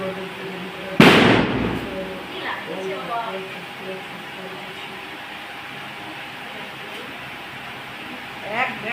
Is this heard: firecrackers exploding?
yes